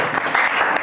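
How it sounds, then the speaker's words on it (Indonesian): A classroom group claps for a team that has just presented, brief scattered applause running through the whole moment with no voices over it. "tepuk tangan, aplaus untuk kelompok 6"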